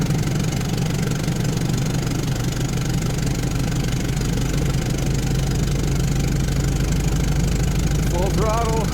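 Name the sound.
car engine at full throttle climbing a hill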